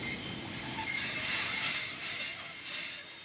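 A French regional omnibus train running on rails toward the Auvergne, its wheels squealing with a steady, piercing high whine over a low rolling rumble, close by, with no talk.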